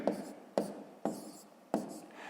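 Handwriting out a column multiplication problem, four distinct pen taps with light scratching between them, close and quiet, no voices.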